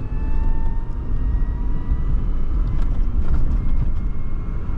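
Ligier Myli R.ebel X electric microcar at full throttle, a steady loud whirring drone with rising faint electric whine tones and road rumble, continuous throughout with no talk.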